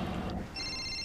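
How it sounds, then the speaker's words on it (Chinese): Telephone ringing in a Chinese drama scene, a short high electronic tone that starts partway through, after a low rumbling noise, with no talk. "我接个电话啊。"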